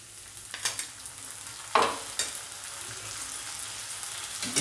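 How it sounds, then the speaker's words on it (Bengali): Spice pastes of turmeric, ginger, salt and cumin sauté in a pan for a fish-head murighonto made with a katla fish head, giving a soft steady sizzle with a few sharp scraping stirs nearby. "সব মশলা দিয়ে এবার ভালোভাবে কষিয়ে নেব।"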